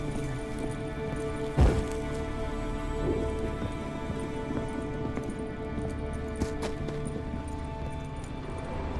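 Horse galloping in The Witcher 3: Wild Hunt, a steady run of hoof clip-clops mixed into continuous game ambience with a single sharp thump early on and no voices.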